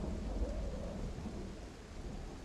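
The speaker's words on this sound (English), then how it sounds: "you got me out in the rain" Steady rain hisses throughout a video game zombie-survival scene while low thunder rumbles continuously underneath, dense and enveloping with no voices.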